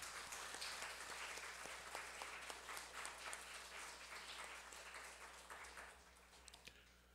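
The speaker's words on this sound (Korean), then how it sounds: "박수를 보내고 싶습니다" Audience at a memorial ceremony breaks into sustained applause, a fairly distant, even wash of many hands clapping that holds steady and begins to thin toward the end.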